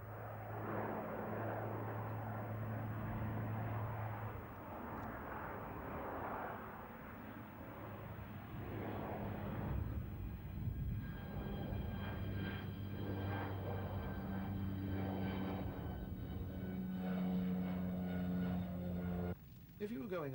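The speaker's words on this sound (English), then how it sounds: "This aircraft is performing the kind of tactical landing manoeuvre that has to be used when there is poor access to an airfield" A propeller aircraft performs a tactical short-field landing at the Finningley 1991 air show in the UK, its steady engine drone heard at moderate distance under ongoing talk, with a low hum throughout.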